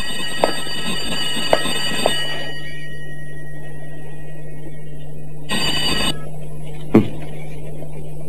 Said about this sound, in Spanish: ¿No te he dicho que no contestes al teléfono por la noche?